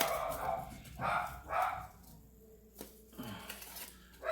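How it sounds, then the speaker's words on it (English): A dog barks several times, heard from upstairs in a house, muffled and at a distance, with a few spaced bursts over steady room noise and no clear talk. "I can hear the dog barking"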